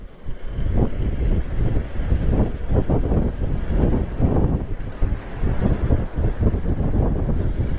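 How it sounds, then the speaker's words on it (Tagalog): Strong, cold wind buffets the microphone in steady, roaring gusts during a ride on the Marilaque highway, with a faint wash of water in the background. "grabe yung hangin dito no sobrang lamig ngayon"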